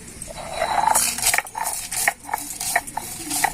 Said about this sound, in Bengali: এবার ভাজা মশলাটা এবার আমি শিলনোড়াতে বেটে নেব